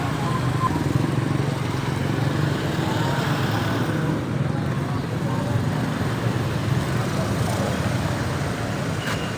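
Mixed traffic crowded with motorcycles follows a funeral procession in the Philippines, engines droning in a steady, continuous roadway rumble with no clear single pass-by.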